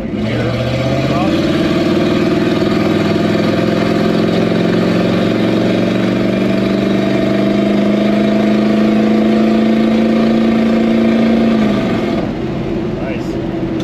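A 1979 C20 square body truck with a 454 engine accelerates in second gear, a loud, close engine note rising steadily for about eleven seconds before the throttle lifts and it settles back.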